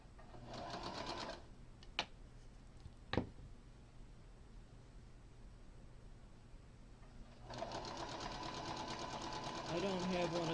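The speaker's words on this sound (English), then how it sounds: "I don't have one of those fancy fast sewing machines, so it takes me longer to do things than Tiffany." A home sewing machine, not a fast model, stitching fabric in steady rapid bursts near the mic, stopping for a pause with a couple of sharp clicks, then running again steadily to the end.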